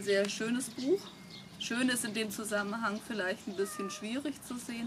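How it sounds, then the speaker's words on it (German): A household cat meows softly in the background of a room, small mewing calls sitting under steady close talking that carries on throughout. "Das ist im Hintergrund, was ihr da hört, ist unsere Katze."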